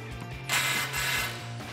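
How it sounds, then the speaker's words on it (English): An impact gun loosens tight, rusty exhaust clamp bolts on a Challenger using a 15 mm deep socket, giving a short loud mechanical burst of rattling hammering over a low hum. "loosen up these two clamps right here with a 15 millimeter deep socket and an impact gun"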